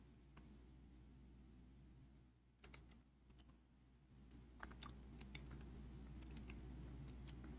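Someone types on a faulty computer keyboard, faint scattered key clicks coming in short irregular bursts over a low steady hum.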